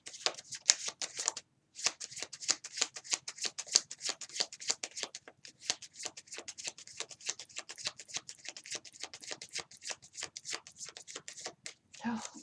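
Tarot cards are shuffled for a reading in a quick, steady run of crisp riffles and flicks, close and fairly quiet, with one brief pause partway through.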